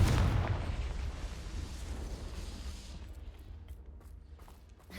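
A Confringo blasting spell explodes in Hogwarts Legacy with a heavy booming blast at the start, followed by a rumbling decay that fades over several seconds.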